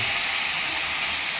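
Tomatoes and green chillies fry in a salted pan, giving a steady, loud, close sizzling hiss that runs without a break and has no voices over it.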